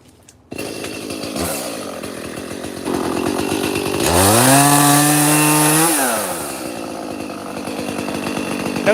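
Chainsaw running loud and close while cutting Brazilian pepper trees, idling rough then revving up to a sustained high whine for a couple of seconds before dropping back to a steady idle.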